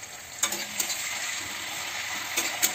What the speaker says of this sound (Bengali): এবার আমি রসুন কুচি দিয়ে দিচ্ছি। আমি সামান্য একটু ভেজে নেব